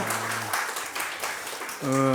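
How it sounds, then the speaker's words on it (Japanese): Brief applause from a church congregation during a Sunday worship service rises between a speaker's voice at the start and at the end, a soft wash of clapping under the talk. "生きておられる神様に栄光の拍手をお捧げしましょう"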